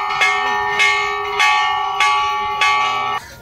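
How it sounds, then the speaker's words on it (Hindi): A temple bell at Maihar Devi temple is struck by hand five or six times at a steady pace, each bright metallic clang ringing on and overlapping the next, close and loud. "मैडम जी हैं, घंटी बजा रही हैं, थोड़ा तो कस के बजाओ।"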